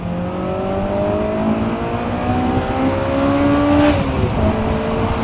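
Honda S2000 fitted with an HKS Hi Power exhaust revving hard, a loud close engine note climbing steadily in pitch through long gears, then dropping at a shift near the end.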